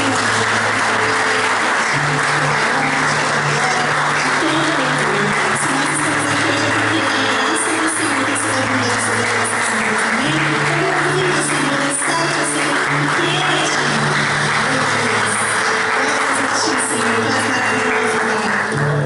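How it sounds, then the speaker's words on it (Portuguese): A church congregation claps steadily and loudly throughout, sustained applause filling a large room with a faint tone underneath. "Então eu quero te convidar a aplaudir ao Senhor"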